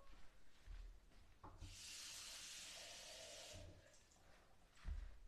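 Water pours into a Thermomix mixing bowl in a steady hissing stream lasting about two seconds, framed by soft clunks and handling noises, fairly quiet and close.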